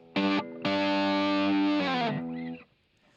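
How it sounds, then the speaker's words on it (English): A distorted electric guitar power chord rings out twice, a short stab then a longer sustained hit, loud and alone, decaying at the end. "you're going to start with a power chord."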